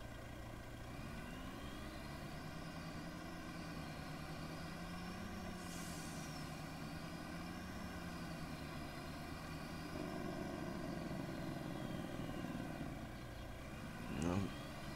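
A modded truck engine in a farming video game drones steadily at low volume, its pitch wavering slightly, with a brief louder burst near the end.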